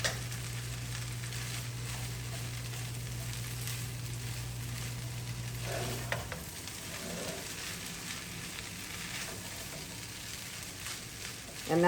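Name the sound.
fried rice with vegetables and butter being stirred in pan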